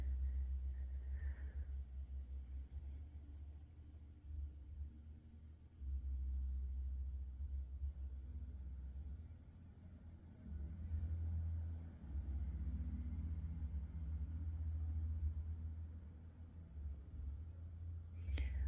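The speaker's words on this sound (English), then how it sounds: "I can hear a loud car outside" Loud car passing on the street outside a building, a heavy low rumble with thumping bass music that swells and fades over the stretch, fairly steady throughout with occasional faint clicks.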